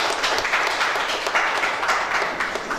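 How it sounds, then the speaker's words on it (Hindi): A church congregation claps together during a Sunday morning worship service, a steady dense patter of many hands that holds at an even level throughout without a break. "सो आप परमेश्वर के लिए तालियां बजा सकते हैं,"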